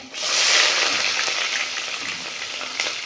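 Onions sizzle in hot oil in a pan for a Kerala-style matti fish curry, a steady loud frying hiss with light stirring scrapes, no voices.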